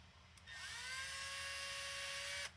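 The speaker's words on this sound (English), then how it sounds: "So we're going to go ahead and use our power tool," A small power drill driving a screw whirs steadily for about two seconds, its pitch settling as it runs, close by and then stopping abruptly.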